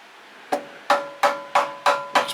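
Six sharp, evenly spaced metallic taps ring out close by as an adapter is hammered onto the shaft of a Predator 212 engine, each strike leaving a brief ringing tail.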